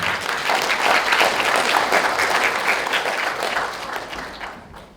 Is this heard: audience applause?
yes